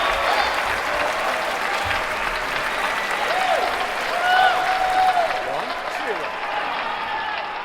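Crowd applauding and cheering at a table tennis match in the London 2012 Olympic video game, a steady, dense wash of clapping that swells slightly midway, with a commentator's voice over it.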